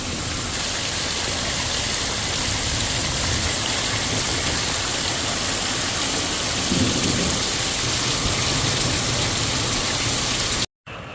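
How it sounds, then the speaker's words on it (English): Heavy rain drums steadily on a truck roof in a forest lake setting while thunder rumbles through the downpour, a dense continuous roar with no talk. "It's a lot of rain."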